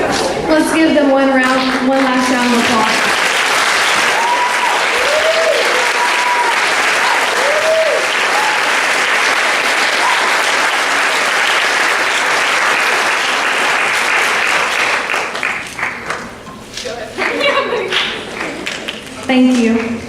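A crowd claps steadily and loudly for a girls' soccer team at the University High athletic awards banquet, the applause filling most of the stretch, with a voice speaking over it at the start and again near the end.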